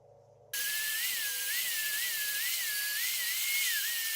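A grinder runs steadily on steel for a bearing race knife, a loud, close, high whine with a gently wavering pitch that starts abruptly and holds for several seconds without talk.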